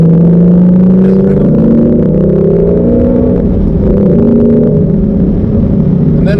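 A sports car engine revs hard through a rev-matched downshift, heard loud and close from inside, with rising and falling engine tones sweeping over a constant road roar.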